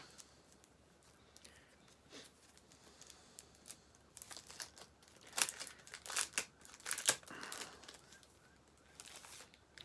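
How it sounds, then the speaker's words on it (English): A pack of Blade Runner 4K collection art cards is opened with quiet crinkles at first, then a burst of louder crumpling and tearing of the wrapper in the middle. The rustling gets softer toward the end, and no one speaks. "we get a pack with some art cards in. I'll open them up, we'll take a quick look."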